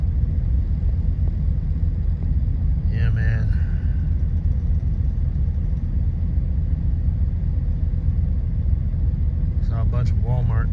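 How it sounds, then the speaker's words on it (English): A truck engine idles to charge its batteries, a steady loud low rumble throughout, with someone speaking briefly near the start and again near the end. "The engine's running right now."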